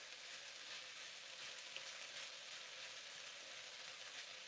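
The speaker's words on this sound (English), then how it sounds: "We've got onions in there, peppers, carrots, and parsnip, and that's cooking nicely." Onions, peppers, carrots and parsnip fry in a pan with a steady, even hiss of sizzling. It sounds close but fairly quiet and continues without pause, with no talking.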